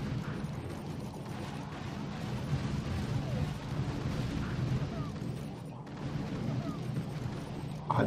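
Rockets firing and exploding in the mobile strategy game Boom Beach, a dense ongoing barrage of booms and rumbling blasts at moderate loudness, overlapping throughout with game effects.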